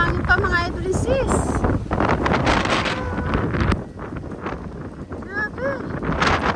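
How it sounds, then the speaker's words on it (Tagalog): Strong wind gusting during heavy snowfall in Georgia, USA, roaring across the microphone in a loud continuous rush, with a person calling out excitedly over it. "Humahangin pa mga idol and sis."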